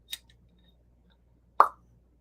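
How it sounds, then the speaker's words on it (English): A cork pops out of a bottle of Hakushu 12 whisky, a sharp, hollow plop after a small click, close and alone in a quiet room. "Fantastic cork pop."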